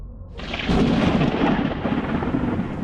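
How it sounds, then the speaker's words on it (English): Thunderstorm on a night in Oregon, with a deep rolling thunder rumble swelling in after a brief quieter start and steady heavy rain hissing throughout, loud and close. "There was a thunderstorm that night, which is extremely rare for Oregon, but it does happen."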